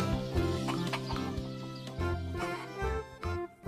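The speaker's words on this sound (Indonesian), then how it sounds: "Di sini ada anak ayamnya, teman-teman." Busy Jurassic World Evolution 2 game soundtrack with music and effects, small chick-like clucks and peeps popping up repeatedly throughout.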